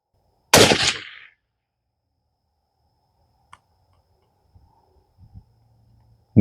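A single loud shot from a Marlin X7VH rifle in .223 firing 75-grain match ammunition outdoors, a sharp crack with a short decaying tail, then near silence with a few faint clicks and thumps.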